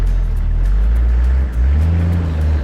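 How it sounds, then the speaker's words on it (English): A Toyota Land Cruiser on a muddy 4x4 off-road trail revs hard while its wheels spin in the mud. The engine roars loud and close, dips briefly midway, then surges again. "but the wheels were still spinning in the mud"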